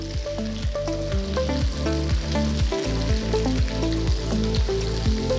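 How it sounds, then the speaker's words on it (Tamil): Sliced ivy gourd sautéing in hot oil in a wide kadai, a steady close sizzle and crackle with occasional stirring scrapes, no voices. "ஒரு அகலமான கடாயில் 3 டேபிள் ஸ்பூன் எண்ணெயை ஊற்றி எண்ணெய் சூடானதும் நறுக்கி வச்ச கோவக்காயை சேர்த்து காய் உடையாம நல்ல பொன்னிறமாக வதக்கிக்கோங்க"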